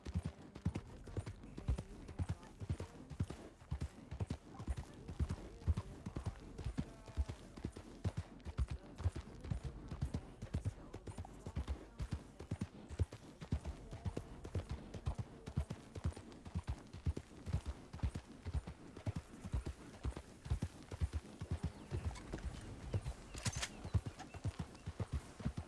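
Hooves of a red-saddled horse in the western roleplay game Dreadwood RP clip-clop in a continuous, even gait, soft and steady throughout, with a brief whinny near the end.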